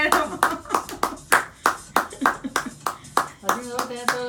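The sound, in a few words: people clapping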